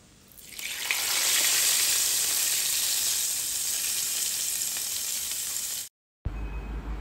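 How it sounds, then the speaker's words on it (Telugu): Tempering spices for yogurt chutney, cumin, mustard seeds and dried red chillies, hit hot oil with a sudden loud sizzle that swells quickly and crackles steadily for several seconds before cutting off abruptly. "అందులో ఇప్పుడు తాలింపు వేసుకుందాం."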